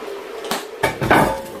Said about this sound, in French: Je vais remuer et continuer à laisser fondre mon chou un petit peu.